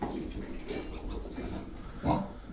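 A Pietrain sow on her second farrowing, with fourteen piglets on a small farm, makes soft, low grunts throughout, and a louder grunt rises near the end.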